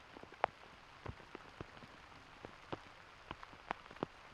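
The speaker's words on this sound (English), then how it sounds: "Yeah, the rain, you can hear it." Steady rain falling on an outdoor golf course, heard as a soft, continuous patter with scattered louder drops ticking close by, fairly quiet overall with no voices.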